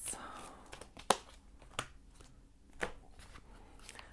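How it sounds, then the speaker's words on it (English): Tarot cards are shuffled and drawn during a reading, quiet close riffles and crisp slaps and snaps of cards landing, with soft speech-like sounds underneath. "please just bear with me as I draw the cards for you"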